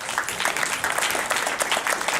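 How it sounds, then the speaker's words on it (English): Audience applause at a gathering as people stand to be recognized, a dense steady patter of many hands clapping at moderate level, continuous throughout with no speech. "would you please stand up so we can give you a round of applause?"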